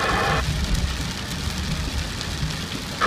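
Steady rain falls in Rafha, a dense even hiss on surfaces close by, with low rumbling underneath and no voices.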